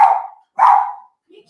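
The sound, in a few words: dogs barking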